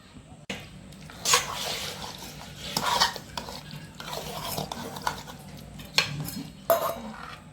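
A spoon stirs and mixes tempered vegetable khichdi of moong dal, tuvar dal and rice in a pot, giving several scraping, clinking strokes at an uneven pace, close and fairly quiet.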